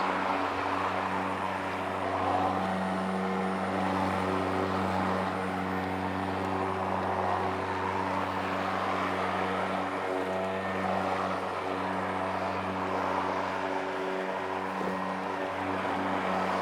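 A Kress 60V 46cm battery self-propelled lawn mower runs at a steady, close hum with a smooth, constant drone and no breaks. No one speaks.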